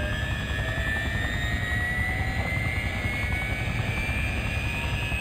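A helicopter in Farming Simulator 15 flies with a continuous, steady rotor and engine drone, loud and even throughout with no talking.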